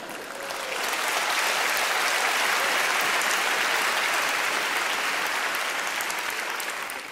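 Sustained audience applause fills a televised political debate studio in France in May 2019, a dense steady roar of many hands clapping that swells in quickly and holds loud for several seconds with no talk over it.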